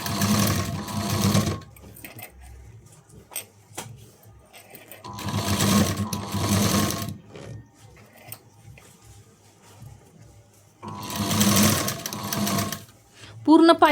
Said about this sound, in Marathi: थोड्या थोड्या अंतरावरतीच आपल्याला शिलाई द्यायची